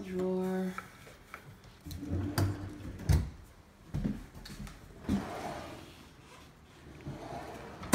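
A kitchen utensil drawer in a newly vacated house slides open and shut with a few close, sharp wooden knocks and rattles, separated by short quiet gaps, and no talking.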